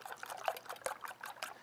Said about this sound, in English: instead of adding milk and cream and things like that, I'll add just a touch of water